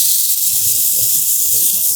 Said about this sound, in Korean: 팬이 달궈지면 양파를 먼저 올리고